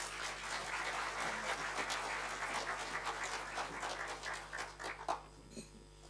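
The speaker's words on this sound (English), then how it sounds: "thank you for the claps" An audience at an ANC KwaZulu-Natal meeting with the religious sector claps after a speech, steady dense applause that carries on for several seconds and then thins out toward the end, heard alone without talking.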